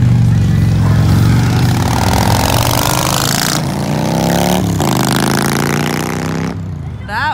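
A motorcycle revs and passes through a small mountain town, its engine loud and close with rising and falling pitch as it goes by, while people talk over it.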